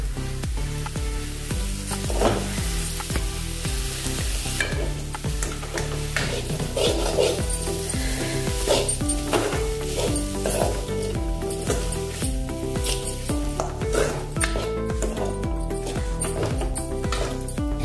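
Boiled green peas stirred into spinach sizzling in a pan, a steady loud frying hiss with repeated scraping and stirring knocks throughout, sounding close up.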